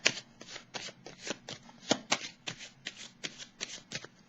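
Tarot cards being shuffled by hand in a steady run of crisp riffles and soft slaps, about a dozen regular strokes close up, with no talking over them.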